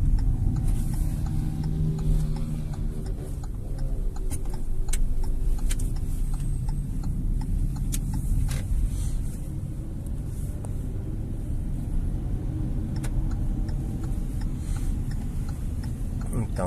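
Hyundai HB20 engine hums steadily while driving during a driving lesson, with the engine note shifting as the car downshifts; an instructor talks over the continuous rumble.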